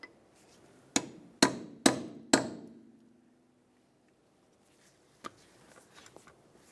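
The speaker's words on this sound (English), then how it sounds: "Now we'll use a hammer and chisel and gently separate the control arm right in this area." Four sharp metallic hammer strikes on a chisel separate the upper control arm from the ball joint on a 2002-2009 Chevrolet Trailblazer, evenly spaced and ringing briefly, then a few fainter clicks and taps from the work.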